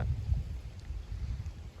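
Wind gusting across a microphone at an outdoor air rifle range shooting pellets at 86 yards, a steady low rumble with no talk.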